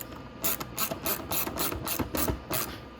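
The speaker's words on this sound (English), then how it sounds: "we're going to start tightening up all of our underneath bolts here" A ratchet wrench clicks in quick, repeated bursts while tightening underside fairing bolts on a Venom x22R 250cc motorcycle, each stroke a sharp, close series of metallic pawl clicks.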